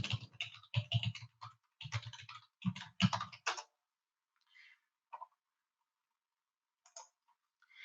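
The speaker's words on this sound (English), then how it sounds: "I'm just going to type in this one again." Quick clusters of computer keyboard keystrokes clatter close and crisp, coming in rapid bursts before trailing off into a few isolated taps amid near silence.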